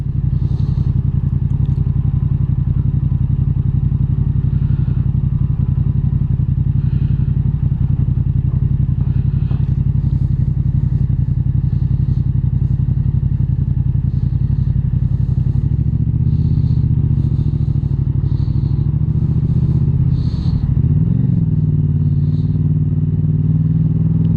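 A 2021 Yamaha MT-07 with a full Arrow aftermarket exhaust drones loudly and deeply, steady and close by as the bike rides along, with light clattering and a brief rev near the end.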